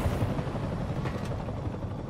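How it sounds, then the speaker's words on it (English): A helicopter in Marvel's Spider-Man Remastered gives a steady, dense rotor rumble with broadband wash. It stays constant and fairly loud for the whole stretch, with no voices over it. "That's a helicopter."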